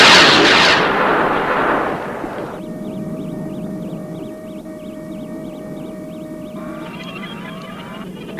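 A rocket ignites and a missile launches in a vintage TV sci-fi sound effect: a loud roaring blast that fades, followed by a steady electronic warbling tone.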